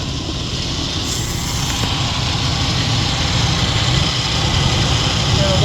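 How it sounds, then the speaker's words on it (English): A running 1998 GMC Safari with its 4.3 engine idles in a steady low rumble, a faint compressor whine mixed into the drone, loud and continuous throughout with no talk over it. "A little bit of compressor noise, but again, it doesn't affect it."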